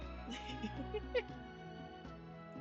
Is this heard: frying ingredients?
no